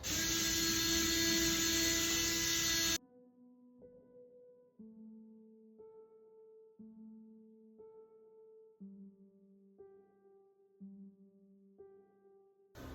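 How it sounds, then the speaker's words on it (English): A power driver runs hard for about three seconds, loud and close, as toggle bolts are driven into a wall to mount a toilet paper holder. It then gives way to a series of short, quieter, whirring bursts as the screws tighten. "And then start screwing in the toggle bolts."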